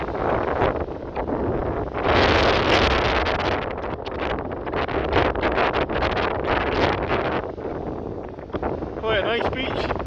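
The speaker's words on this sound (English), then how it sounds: "it's a bit too windy." Strong wind buffets the microphone on a shingly beach by the water at Glyfada near Athens. The roar is loud and continuous with gusty surges throughout.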